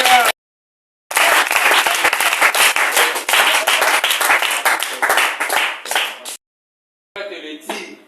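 A church congregation applauding, with dense, loud bursts of clapping that start and stop in several stretches, broken by short silent gaps.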